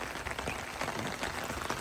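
Heavy rain keeps falling over farmland in Punjab, a steady, even hiss of drops with no letup. It sounds faint and distant, and no voices rise above it.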